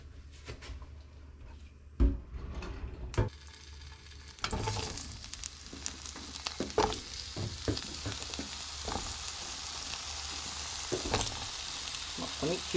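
Cucumber fries in olive oil with a steady sizzle, broken by sharp stirring knocks and clatters as the pan is worked throughout.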